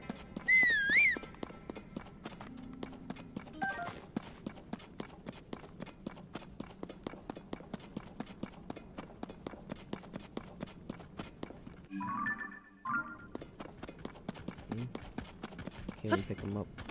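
Horse hooves clip-clop steadily at a brisk pace in Zelda: Tears of the Kingdom, with a regular, even rhythm that runs almost unbroken, a short whinny near the start and a player talking over it.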